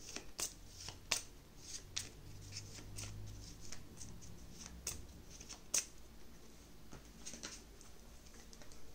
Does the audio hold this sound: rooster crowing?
no